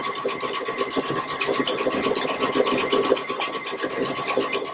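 A domestic sewing machine runs steadily through a quilted winter placemat being made into a bench pillow, its rapid even stitching rattle continuing close and alone without pause.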